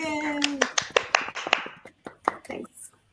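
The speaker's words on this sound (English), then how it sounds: "Give another round of applause to Clem." A small audience gives a round of applause to a performer at a comedy sketch show: sparse, distinct claps from a handful of people, close and uneven, with a brief voice at the start and tapering off toward the end.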